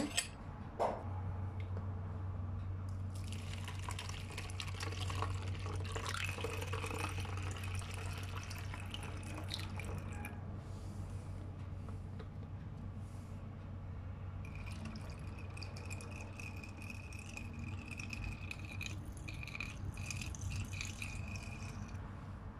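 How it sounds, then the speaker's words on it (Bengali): Water trickles steadily into a bottle while homemade hand wash is being made, with a faint continuous splashing flow and a few drips, all fairly quiet. "এখন আমি পানি দিয়ে দিব"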